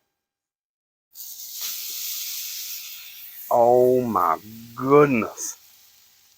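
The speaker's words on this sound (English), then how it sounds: "And just wait for the sizzle." Ribeye steak hitting hot oil in a pan, a steady broadband sizzle starting abruptly and holding throughout, with a voice exclaiming over it partway through.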